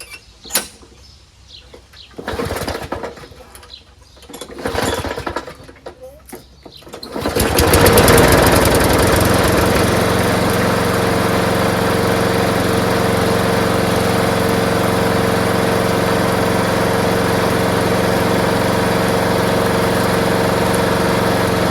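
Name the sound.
Craftsman push lawnmower with 6.5HP Briggs Quantum engine running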